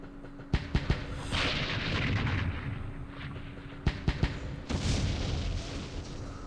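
Artillery barrages in the Campaign Series Vietnam war game at Dien Bien Phu: sharp booming reports in two clusters of three or four, each followed by a rolling rumble and lingering noise, moderately loud with no speech.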